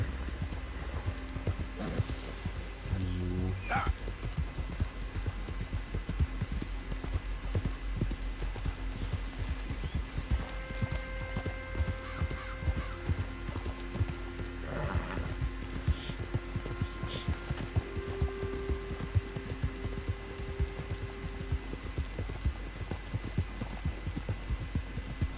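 Horse hooves clip-clop in steady rhythm throughout a Red Dead Redemption 2 ride, moderately loud and continuous, with faint game tones and hum in the background.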